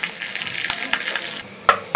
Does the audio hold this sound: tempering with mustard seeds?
yes